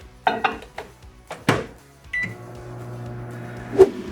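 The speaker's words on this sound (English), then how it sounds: "All right, we're gonna heat it up in the microwave." A microwave oven heating plastisol for soft plastic lures: a few door and button clicks, then a steady low hum with a faint whir running alone, ending in a sharp beep.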